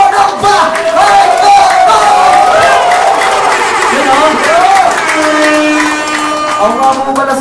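A crowd at a rap song competition and anniversary show roars with loud, sustained cheering and shouting. Overlapping voices hold steady for the whole stretch, with little distinct clapping.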